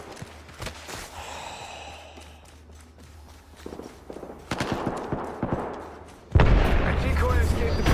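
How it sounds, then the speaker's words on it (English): Gunfire in an indie horror video game, sporadic sharp shots scattered through the clip, then a dense loud burst of firing near the end, with game noise and background talk. "Yeah, getting shot at."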